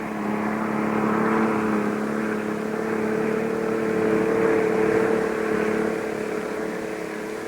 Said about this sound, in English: The police with their armored cars appeared in force.